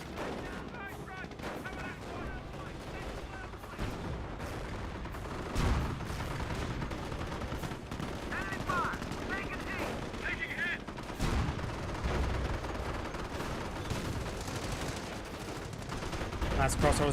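Battlefield gunfire and artillery in Company of Heroes with four artillery pieces on the field: repeated rifle and machine-gun cracks, heavy booms and shell impacts under intermittent talk, spread over a long, busy stretch.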